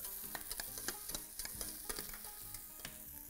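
Carrots and celeriac sizzle in nut oil in a pan, a dense, steady frying hiss broken by scraping stirs and small crackles, close up and with no talking.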